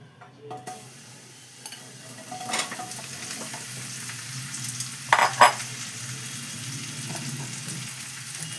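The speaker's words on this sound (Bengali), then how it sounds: "দেখো তেলও গরম হয়ে গেছে, এবার আমি এই মাশরুমগুলোকে দিয়ে দিচ্ছি।" Mushrooms fry in hot white oil in a small pan. A soft, steady sizzle runs throughout, and a couple of sharper clatters and spatters come from the pan as they go in. No voices.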